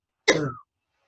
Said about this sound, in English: That cough is not COVID-19.